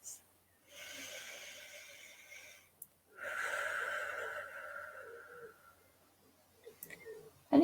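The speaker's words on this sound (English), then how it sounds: "And take a deep breath." A close, slow deep breath: a long, airy inhale, a brief pause, then a longer drawn-out exhale, heard alone in a quiet room.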